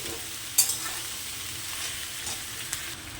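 Garlic frying in a pan while making pasta, a steady soft sizzle with a few brief stirring clicks, close and fairly quiet, with no voices.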